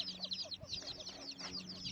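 Hens and small chicks clucking and peeping around a rural farmyard, a steady scatter of overlapping calls close by with no talking.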